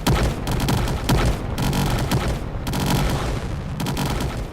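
Rapid tank gunfire in a video game, loud and close, with repeated heavy cannon blasts and crackling bursts coming in waves with short gaps and no talk over them.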